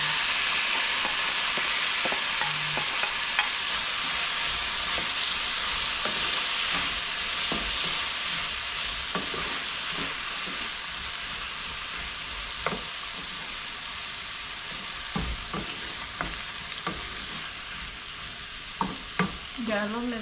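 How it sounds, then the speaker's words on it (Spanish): Nopales and cilantro sizzle steadily in hot oil, a continuous frying hiss broken by scattered scrapes and clacks of a stirring utensil against the pan, close and fairly loud with no talking. "a mezclar ya lo que es el cilantro aquí en el aceite. Y voy a agregar los nopales."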